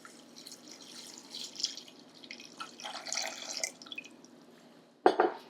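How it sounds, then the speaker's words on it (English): Soy milk poured into vegan banana cream pie filling ingredients gives a soft, steady liquid trickle with faint dripping, ending in a brief louder splash or clink near the close. "And to that, I'm going to add 2 cups, and this is soy milk."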